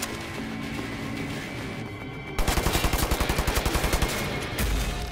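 Rapid machine-gun fire in Wolfenstein: The New Order, a steady stream of evenly spaced shots breaking in suddenly over busy game noise and continuing to the end.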